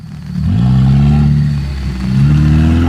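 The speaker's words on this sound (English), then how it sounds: "My engine is straining a little bit more" A Lada Niva off-road engine revs and strains under load in mud, with its muffler fallen off, its pitch rising and holding, dipping briefly before climbing again.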